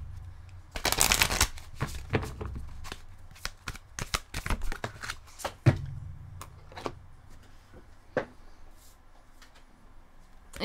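Tarot cards being shuffled and drawn at close range: a dense burst of riffling and slapping card noise early on, then scattered flicks and taps as cards are handled and laid down, with a faint low hum underneath.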